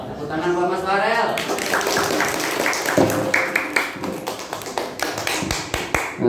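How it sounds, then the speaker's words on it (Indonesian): At a charity gathering for orphans, a voice speaks briefly before a crowd breaks into steady, lively applause for Mas Farel, the many close claps continuing and loosening toward the end. "Tepuk tangan buat Mas Farel."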